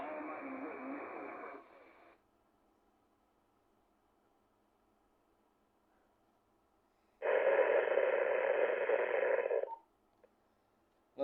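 Two bursts of static hiss from amateur radio receivers in a ham radio shack, each a couple of seconds long, separated by a long near-silent gap with a faint hum.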